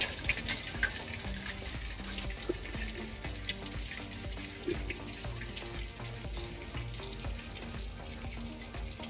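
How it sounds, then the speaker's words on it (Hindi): Raw chicken momos fry in medium-hot oil, giving a steady close crackle and sizzle with small pops that runs continuously at moderate volume, with no voices over it. "मीडियम ऑयल पे यहाँ पे ये मोमोज को फ्राई कर रहे हैं।"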